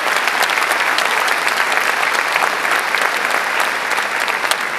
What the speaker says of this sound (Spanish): Aquí presento un fuerte aplauso para él.